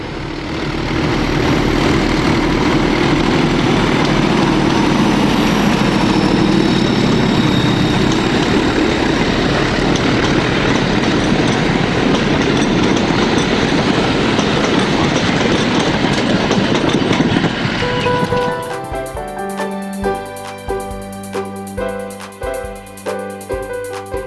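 Three diesel locomotives, D9520, D9523 and D9516, depart Ferry Meadows on the Nene Valley Railway at a March 2007 diesel gala, a loud sustained engine roar with rail clatter for about eighteen seconds before giving way to quieter sounds.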